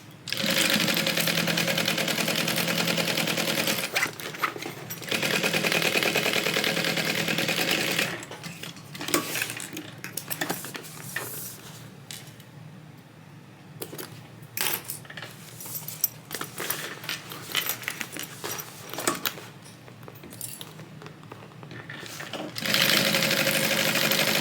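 Sewing machine basting a zipper to a tote panel at a 1/8 inch seam allowance: several bursts of steady motor whir, separated by short pauses and fainter stop-start stitching with small handling clicks.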